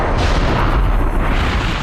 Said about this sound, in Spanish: Cuando la bomba liberó su energía, comprimió las partículas de aire que encontraba a su paso y creó una onda expansiva.